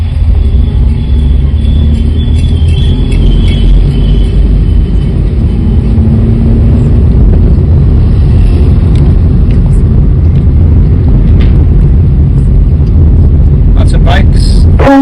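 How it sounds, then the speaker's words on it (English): A car drives through rush-hour traffic on a highway in Kerala, with a steady, loud road and engine rumble throughout and busy surrounding traffic noise. "Typical kind of rush hour type of traffic."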